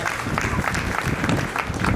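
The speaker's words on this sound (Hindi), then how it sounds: "एक बार तालियां आजाद शत्रु के लिए।" A crowd applauding at a Durga Puja festival poetry recital, a dense wash of clapping that stays steady and fairly loud for a couple of seconds.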